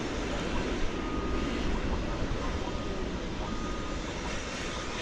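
A Saab turboprop passes at DFW Airport, giving a loud, steady engine drone with dense broadband roar. It holds constant for the whole stretch with no talk over it.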